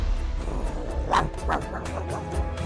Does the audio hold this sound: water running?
no